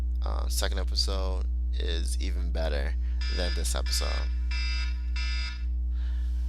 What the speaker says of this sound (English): Sorry, that was my alarm.